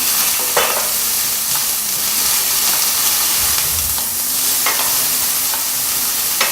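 White onion frying in olive oil: a constant close sizzle and hiss with a few soft stirring clinks, no voices.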